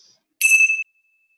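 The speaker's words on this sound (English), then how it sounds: "let's begin our time with the ringing of the bells" A single bright bell is struck once, ringing clearly for a moment before fading, in otherwise silent surroundings.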